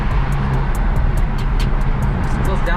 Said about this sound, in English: what the exhaust sounds like with the windows down and I'm inside the car here